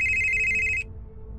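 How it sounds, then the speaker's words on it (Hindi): A mobile phone ringtone trills loud and close in an audio drama, a steady electronic ring lasting under a second before cutting off abruptly into quiet room tone. "उसका फोन बजा जो कि उसकी लोअर के पॉकेट में"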